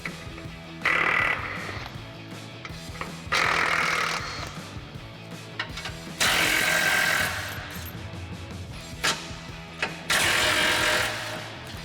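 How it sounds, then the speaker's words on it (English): An impact wrench fitted with a 15mm socket zips off skid plate bolts on a 2020-2026 Silverado 2500, with four loud, close bursts of rattling hammering separated by quieter handling clatter. "We've got our 15mm socket on our impact, remove all the hardware and get these out of the way."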